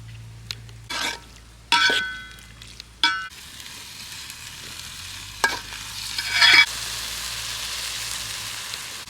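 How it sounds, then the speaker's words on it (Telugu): Prawn curry with garlic and cumin being stirred and fried in a pan outdoors, with scraping stirs in short bursts over a steady low sizzle, close and moderately loud. "వెల్లుల్లిపాయ జీలకర్ర కూడా యాడ్ చేసుకుందాం."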